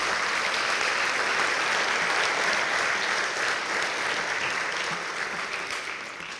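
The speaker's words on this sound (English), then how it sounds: "big round of applause for all the students that finished the program" A graduation crowd gives a sustained round of applause for students finishing a leadership program, dense steady clapping that fades slightly toward the end.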